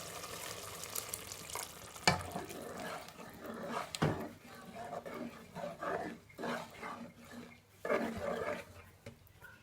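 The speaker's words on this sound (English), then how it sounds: "I'm going to mix my meat stock." Meat stock is stirred in a pot, with intermittent scraping and sloshing strokes over a soft background sizzle, moderately close and uneven in rhythm.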